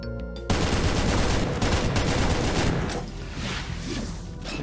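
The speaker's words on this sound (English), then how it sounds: "there's my chain gun" Chain gun firing in the video game Doom, a dense continuous burst of rapid shots with booming impacts that runs loud for several seconds after a brief quiet lead-in, then eases slightly toward the end.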